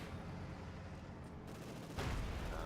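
Shots strike a heavily armoured tank in Company of Heroes 2, a real-time strategy battle: a hazy rumble of distant fire swells into a sharper, louder volley of impacts near the end.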